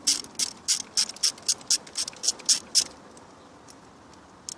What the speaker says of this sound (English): For this bolt here, I'm using a 12mm socket to loosen it.